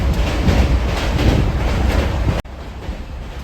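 A fast express train on the Secunderabad to Vijayawada line gives a loud, continuous rumble and rattle from inside the carriage, cutting suddenly to a quieter hum near the end.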